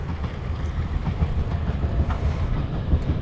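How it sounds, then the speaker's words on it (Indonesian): A train rolls past close by near Hasugaike station in Japan, a steady low rumble with faint rhythmic wheel clatter throughout, loud and without speech. "Tuh keretanya lewat guys."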